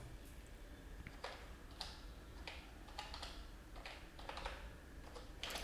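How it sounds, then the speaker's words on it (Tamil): Quiet, irregular clicks of typing on a computer keyboard, short bursts of keystrokes scattered over a few seconds with a faint background hum and no talk. "டாடா ஸ்டீல் அப்படின்னு டைப் பண்ணிவிட்டு"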